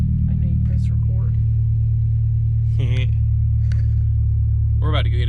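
Low, steady engine rumble from a Mazda RX8 fitted with an LS engine, droning inside the cabin throughout, with faint voices and soft vocal sounds over it.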